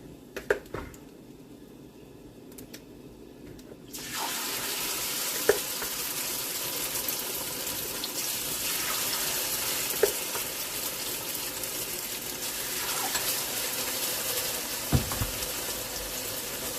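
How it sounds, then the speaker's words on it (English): Sauce sizzles loudly in a hot frying pan on a home stove, with a steady hiss that kicks in suddenly. Now and then a spoon scrapes and clicks against the pan as the sauce is stirred. "Stirring this sauce, it goes good."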